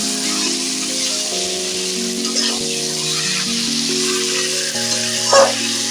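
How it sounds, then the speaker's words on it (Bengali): Chicken is stir-fried over a low flame on a clay stove, a continuous hissing sizzle with occasional stirring scrapes, accompanied by sustained tonal notes underneath. "এইভাবে মাংসটা আমি এখন বেশ কিছুক্ষণ ধরে আমি কষতে থাকবো"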